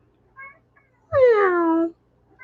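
A pet cat named Tanya gives one loud, close meow with a drawn-out falling tone, preceded by a faint short chirp. No one talks over it.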